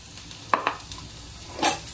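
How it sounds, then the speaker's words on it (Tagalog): Shrimp frying in butter with garlic and oyster sauce sizzles steadily in a pan, with a few brief stirring scrapes rising above the constant hiss. "ganyan lang po magluto ng hipon na may butter."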